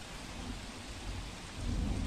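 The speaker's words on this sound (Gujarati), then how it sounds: "સુરત જિલ્લામાં છેલ્લા બે દિવસથી ધોધમાર વરસાદ વરસી રહ્યો છે" Steady heavy rain roars with low rumbling thunder swelling toward the end, no voices, during heavy rainfall in Surat district.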